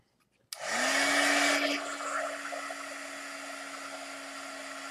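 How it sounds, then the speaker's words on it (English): A heat gun switches on abruptly and blows a loud, steady whooshing roar with a constant whine while drying a vintage-style Christmas ornament, staying on throughout with no talk. "let me dry it some more with my heat gun"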